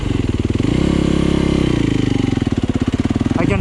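A Yamaha YZ250FX dirt bike engine in first gear runs loud and close, chugging at low revs, lifting briefly in pitch, then settling back into a steady pulsing throb.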